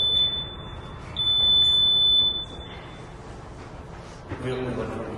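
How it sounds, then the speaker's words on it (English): A fire alarm control panel sounds a high, steady electronic alarm tone in bursts over a background hum, with a brief buzzing signal near the end. "this fire alarm control panel is going to receive a signal"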